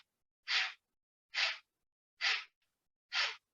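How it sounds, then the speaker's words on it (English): Breath of fire yoga breathing, four forceful, evenly spaced breathy exhales about one per second, close and clear with silence in between. "Now we're going to do a breath called breath of fire."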